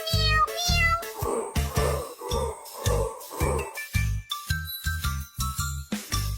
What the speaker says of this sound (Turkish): Tombik tombik kediler miyav miyav miyav derler.